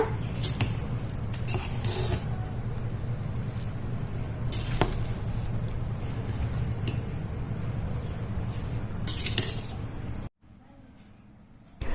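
Rice and dal being stirred in a pot after pressure cooking: repeated soft scraping and wet squelching with occasional light metal clinks, close and steady, ending in a near-silent pause with someone speaking over parts of it.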